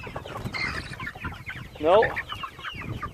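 Chickens cluck on a working chicken farm. One close bird gives a short run of clucks partway through, while other hens murmur and people talk at the farm.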